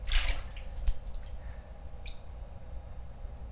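Water dripping and trickling off a drinking glass dipped into a basin of water, during a rinse-agent demonstration; a louder splash at the start, then soft, scattered drips close by.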